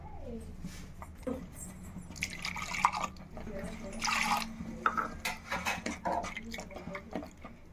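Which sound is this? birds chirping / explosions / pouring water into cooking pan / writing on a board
pouring water into cooking pan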